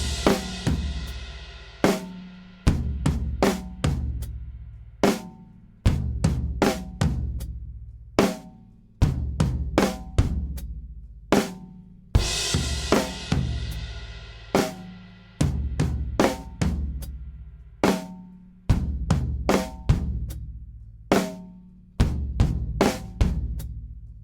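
A drum kit plays the outro, with big flams on the backbeats and cymbal crashes ringing out in a steady rhythm of repeated sharp hits, close and alone with no talking.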